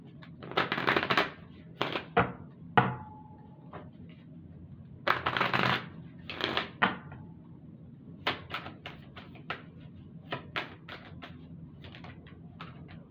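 Oracle cards being shuffled by hand in several quick, dry riffling and flicking bursts, close and fairly quiet, with brief pauses between them and no talking.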